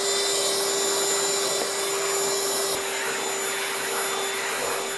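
A random orbital sander fitted with 80 grit paper works over unfinished hardwood, a steady loud whirring drone with a constant high whine that runs unbroken from start to finish.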